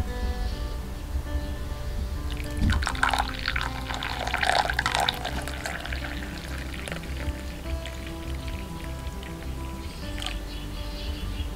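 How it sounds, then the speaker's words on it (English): Chamomile tea poured into a cup, a close, continuous liquid splash and trickle lasting several seconds, strongest early on and then easing into a softer stream and drips. "now is the time to pour yourself a cup of tea, of chamomile tea."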